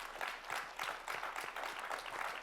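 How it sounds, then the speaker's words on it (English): Clapping from an audience during a live conversation event with Ken Casey, a steady rhythmic patter of several hands heard at a distance and quite faint. "whoever started that clap"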